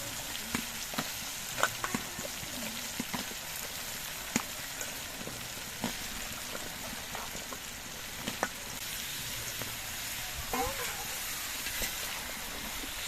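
Vegetables hit a pan of fried spice paste for a Bengali pui mituli dish and sizzle in a soft, steady hiss, with scattered light taps of stirring. There is no talking.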